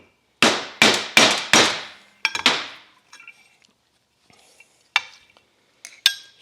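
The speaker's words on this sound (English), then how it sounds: "I'm going to drive out these little plastic bushings" Plastic bushings being hammered out of John Deere mower deck pulleys: four sharp, ringing metallic strikes in quick succession, then a few lighter taps and scattered clinks spaced apart.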